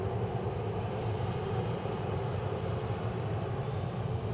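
A Japan Airlines airliner at Boston Logan airport: a loud, steady jet engine roar with a broad low rumble, continuous and close, no talk.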